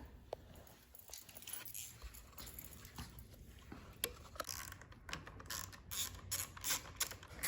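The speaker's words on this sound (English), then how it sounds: "the 2 screws he's just removing, they do 2 things" Screws being backed out of the carburetor cover on a small engine that won't start, giving light mechanical clicks and ratchet-like ticks in a short irregular patter close by.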